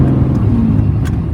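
A 2018 Dodge Ram 3500 one-ton pickup with a Carli suspension lift cruises a rough back road, its engine a close, steady low rumble with road hum and no talking.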